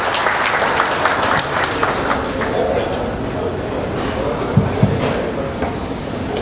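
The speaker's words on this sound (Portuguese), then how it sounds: "recebe nossa calorosa salva de palmas" Warm audience applause greets Dr. Evandro Binotto Fagan at FENICAFÉ 2024, a coffee-growing conference, as a steady, dense wash of clapping with a few scattered voices over it.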